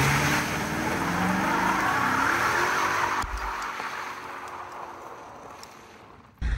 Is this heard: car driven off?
yes